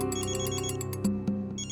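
A phone ringtone plays loudly and steadily, a repeating electronic melody with a rhythmic pulse, in a CID crime drama scene.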